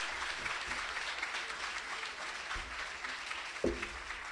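A crowd at a book fair opening claps steadily and continuously at a distance, with a few sharper knocks standing out near the end.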